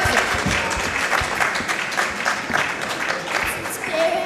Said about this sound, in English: I think they deserve a bigger round of applause, ladies and gentlemen.